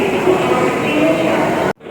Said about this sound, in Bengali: ট্রেন ঢুকছে ঝটপট উঠতে হবে